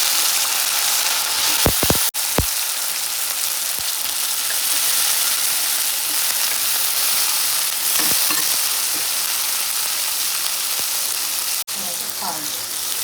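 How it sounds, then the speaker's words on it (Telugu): Urad dal and onions frying in a pan for a brinjal fry, a loud, continuous hiss and sizzle close up, broken by a few sharp clicks and knocks. "పప్పు కాలింది, తర్వాత ఆనియన్స్ కాలింది"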